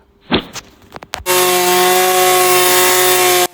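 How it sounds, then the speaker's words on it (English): A lawn mower engine starts after a few brief knocks and clicks, then runs at a loud, steady drone with a strong buzzing hum that holds until it cuts off. "Lawn mower."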